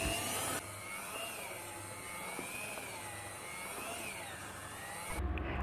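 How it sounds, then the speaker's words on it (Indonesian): A stand mixer kneads bomboloni dough with a continuous close motor whine and a low churning drone, steady throughout with a brief change at the start and end. "Mixer sedikit lagi."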